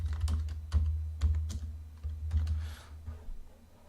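Close keyboard typing while entering text in an Excel spreadsheet, with irregular bursts of sharp key taps and firmer thunks spaced across the stretch.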